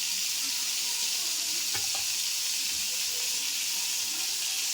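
Butter melting in a pan makes a steady, close hiss and sizzle with a few faint clinks, with no talk.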